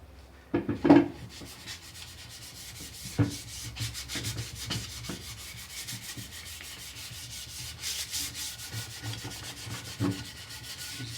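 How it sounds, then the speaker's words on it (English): Sandpaper rubs quietly over a wooden leg of a kids' table in short, uneven strokes, a soft close scratching after a couple of louder knocks at the start. "Let's sand it quickly"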